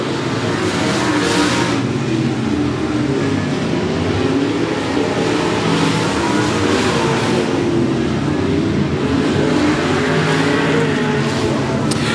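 Race cars lapping at 105 Speedway during a regular race program near the finish, a continuous loud, dense engine roar of the pack with no break, rising and falling slightly as cars circulate.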